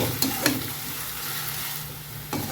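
Sliced bitter gourd frying in a little oil until browning, a continuous close sizzle with a few sharp stirring clacks at the start and end, no talk.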